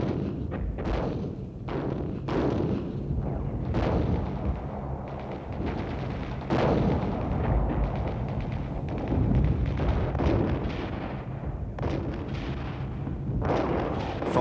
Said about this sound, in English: From the rear, Israeli artillery shelled the most stubborn Syrian strongpoints with pinpoint accuracy.